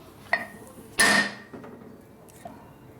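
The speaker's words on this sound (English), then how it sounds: "Just now with this light hammer." A light hammer strikes a part of a 1961 Harley-Davidson Sportster XLCH Ironhead engine during a rebuild: several sharp metallic strikes, one louder clang among lighter taps, brief pauses between hits in a quiet workspace.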